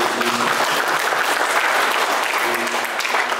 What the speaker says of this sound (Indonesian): Tepuk tangan lah sekali.